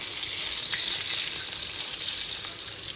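Tamarind extract, fish sauce and light soy sauce are stirred into a hot pan, giving a steady, loud, close sizzling hiss that holds for the whole stretch without a break.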